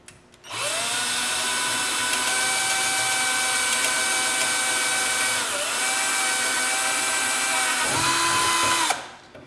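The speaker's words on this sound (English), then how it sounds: "And this is the bigger drill bit in the kit." A power drill with a small kit bit bores a hole in an automatic transmission valve body, a loud steady whine that holds for several seconds, dips briefly, then winds down and stops.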